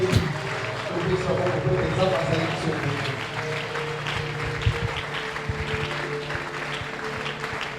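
A church congregation rises to applaud and cheer, steady clapping and crowd noise filling the space for the whole stretch, with voices mixed into the continuous roar.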